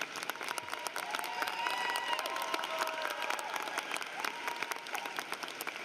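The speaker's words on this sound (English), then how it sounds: "let's give them a round of applause." Graduation audience at Tesla STEM High School applauding parents and guardians, a steady wash of clapping with some crowd murmur and faint voices mixed in, sustained at moderate distance throughout.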